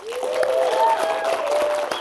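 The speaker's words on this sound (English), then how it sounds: "let's give a warm round of applause for everybody who made this conference happen" A conference audience at EpicWeb Conf 2024 gives a short burst of applause, dense clapping that holds steady for about two seconds with a thin tonal sound running above it.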